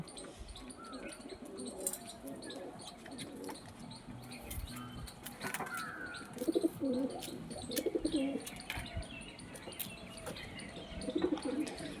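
Soft pigeon coos come in short rounded bursts over a steady outdoor hum, with faint chirps and rustling in the background.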